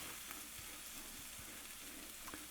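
Onions and garlic saute in a pan for a stew, giving a faint, even sizzle with a few soft clicks of stirring, quiet and close with no voices.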